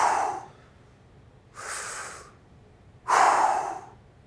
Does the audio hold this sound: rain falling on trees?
no